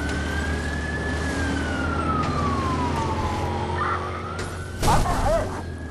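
A police patrol car's siren wails during a street pursuit in Watch Dogs, its pitch sweeping slowly up and down over steady traffic and engine noise, with a brief louder thump near the end.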